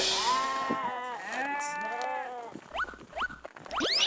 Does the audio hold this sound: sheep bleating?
yes